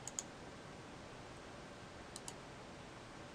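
Faint computer mouse clicks in a quiet room: a quick double click near the start and another pair about two seconds later.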